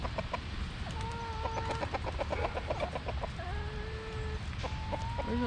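Chickens cluck steadily in a poultry yard, with a busy stream of short calls and a few longer tonal cries, some rooster-like, mixed with background bird chatter. No voices are heard.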